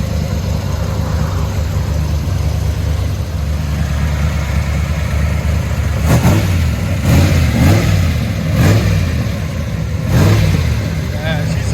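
Big-block V8 in a 1932 Plymouth with side exhaust idles loudly up close, then barks through several sharp, rising revs in quick succession during the second half, with people talking alongside.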